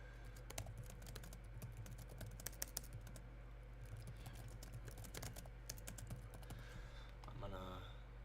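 Quick typing on a computer keyboard, a steady patter of key clicks with occasional louder taps, close and fairly quiet, set against a low background hum.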